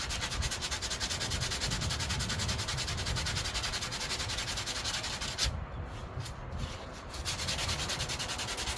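Steady, close sanding scrubs across the trunk jamb of a 1991 Honda CRX being built up. The rough rubbing carries on almost unbroken, with a brief lighter patch near the end and no speech.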